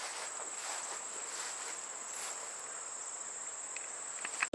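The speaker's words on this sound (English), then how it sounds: "Ooh, bugs are swarming around me." Insects at a bird sanctuary in Lansing, Michigan keep up a steady high, thin chirping drone, like crickets, outdoors, with soft rustling and a brief knock at the very end.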